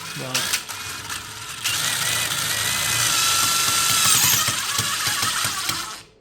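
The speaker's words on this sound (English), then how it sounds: "and that's where the drill is handy." A power drill driving screws whirs loudly and steadily for several seconds after a few short bursts, then cuts off abruptly.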